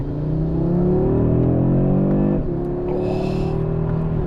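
An Audi RS3 8Y Sportback engine with a noise from its left side and a burning coolant smell hums loudly and steadily from inside the car, its pitch shifting as it accelerates and then settling, with no talking.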